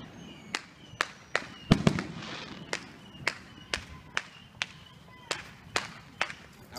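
Firecrackers and small fireworks go off outdoors in a steady run of about a dozen sharp cracks, each a second or so apart, with one louder burst early on and faint talk in the background.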